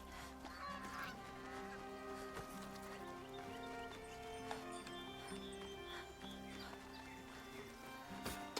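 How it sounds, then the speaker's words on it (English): Geese honk repeatedly in the video game Horizon Zero Dawn, a layered, fairly faint flock sound over a steady ambient background with no talking. "Them sassy geese."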